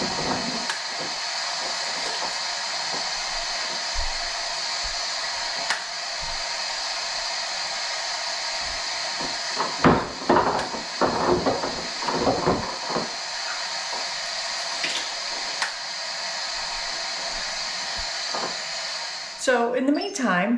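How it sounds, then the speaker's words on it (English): An Instant Pot pressure cooker vents steam after finishing its cooking cycle in a home kitchen, a loud, steady hiss running the whole time, with brief clatter and voice-like sounds in the middle. "The Instapot has completed its cooking cycle and is now letting the steam out."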